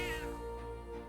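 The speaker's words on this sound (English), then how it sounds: "Oh, cat." A single short meow from a cat in the video game Metaphor: ReFantazio, clear and close, rising then falling over about a second, set against a steady tonal game music bed.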